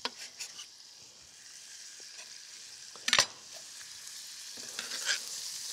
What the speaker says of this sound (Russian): И вместе с морковью лук тоже отправляется в сотейник.